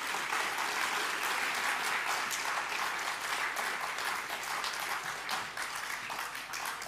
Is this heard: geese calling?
no